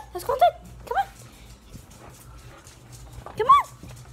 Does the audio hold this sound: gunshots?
no